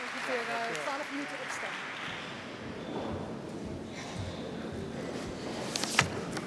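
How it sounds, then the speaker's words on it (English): A conference crowd gives a keynote speaker a warm round of clapping, steady and moderately loud, with voices talking over it at the start and a few sharper claps near the end. "Please, a warm applause for Hans Docter"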